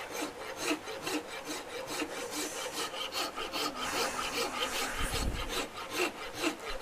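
A hoof rasp scraping across the grain of a wooden workpiece held in a vise, making loud, close, rhythmic back-and-forth rasping strokes that repeat steadily, with no voices.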